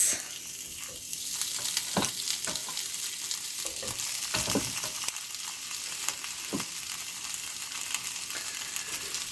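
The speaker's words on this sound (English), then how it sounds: "I'm going to throw these meats back on so that they can keep cooking" Homemade hamburger patties sizzle steadily in a frying pan on an RV travel trailer stove, a constant close hiss with occasional scrapes and taps of a utensil.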